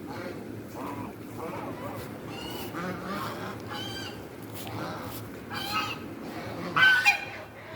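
A flock of eighteen geese honks on a farm, repeated nasal calls at moderate distance over a busy background murmur, with a louder burst near the end.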